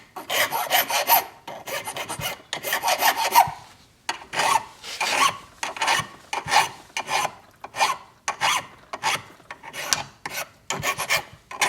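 A guitar nut being shaped with a hand file, close rhythmic rasping strokes, quick and bunched at first and then steady, evenly spaced passes.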